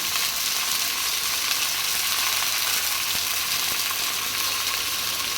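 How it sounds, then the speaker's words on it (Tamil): Eggplant and other vegetables sauté in hot oil in a clay pot, giving a steady, dense sizzle that holds close and even throughout, with no voices. "கத்திரிக்காய் எல்லாம் சேர்த்துக்கலாம் எண்ணெயிலே சேர்த்துட்டு நல்லா வதக்கும் போது"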